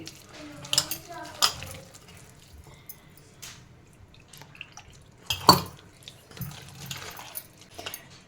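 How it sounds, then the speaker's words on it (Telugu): Spoon clinking and scraping against a bowl while a spiced batter is mixed, with intermittent metallic taps and a louder clatter midway, faint and close with sparse pauses. "ఈ విధంగా అయితే మనం మిక్స్ చేసుకోవాలండి"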